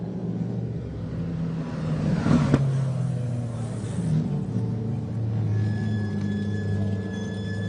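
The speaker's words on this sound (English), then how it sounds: "So Stu, we're in an Alfa Giulia QV Quattro Foglia" An Alfa Romeo Giulia Quadrifoglio sports car engine hums low and steady, swelling briefly in a short rev before settling back to a smooth drone.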